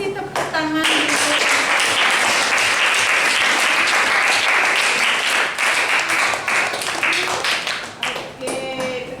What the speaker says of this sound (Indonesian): Pasti tepuk tangan gitu.